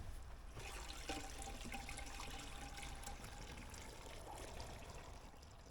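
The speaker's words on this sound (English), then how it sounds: "we're going to pour our sugar solution directly into the keg" A honey and sugar solution for homemade root beer pours steadily through a funnel into a keg, a continuous close liquid rush with a faint trickling tone, heard alone.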